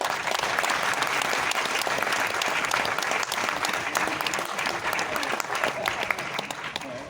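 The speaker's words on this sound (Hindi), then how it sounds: "1300 तालियां तो बनती हैं।" Sustained applause from a large crowd, steady and loud throughout, with no pauses.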